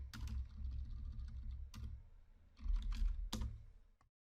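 Typing on a computer keyboard: quiet, close keystroke clicks in short irregular bursts with brief pauses, faint and alone.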